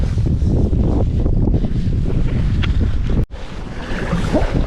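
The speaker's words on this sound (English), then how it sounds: "I am fighting heavy wind gusts" Strong wind gusts roar across the microphone on a fishing boat out on the water while crappie fishing, a loud continuous buffeting with a brief sharp dropout near the end.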